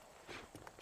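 Horse hooves clip-clopping in Red Dead Redemption, a few soft, quick hoof strikes at low level over faint background ambience.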